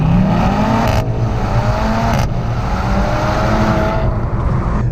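Mercedes-AMG C63 S four-cylinder engine pulling hard with loud, steady engine drone and two abrupt sharp breaks at gear changes, heard up close with no talking.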